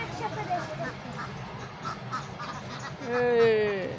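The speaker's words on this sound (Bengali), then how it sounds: "এই দেখো হাঁস দেখছো ওই দেখো দেখো হাঁস হাঁস দেখো দেখো" Ducks quack at a village pond, a few scattered calls early on, then a louder, closer burst of quacking near the end, with people's voices in the background.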